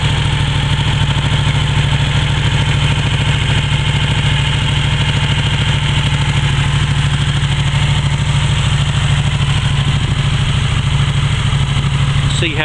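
Motorcycle engine idling steadily up close, a loud, even low thrum with a fast regular pulse that holds without change for the whole stretch.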